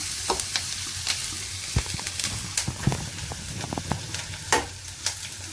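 Onions frying in a pan for channa masala crackle and sizzle up close, with repeated scraping knocks of a spoon stirring at an uneven rhythm throughout, no talk.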